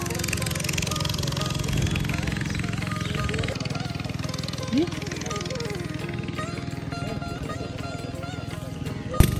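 A hired boat's engine runs steadily on the river at Lamabazar, a continuous close drone with chugging texture under ambient noise, ending in a brief louder knock.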